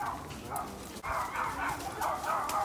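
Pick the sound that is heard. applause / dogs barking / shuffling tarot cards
dogs barking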